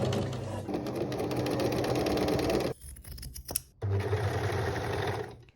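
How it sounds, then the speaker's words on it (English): A sewing machine and serger run in close, loud bursts while seams are sewn on a vintage cowgirl-style dress, a busy mechanical whir that pauses briefly with a clunk before starting again. "So now I'm going to sew, serge, and press all of these seams."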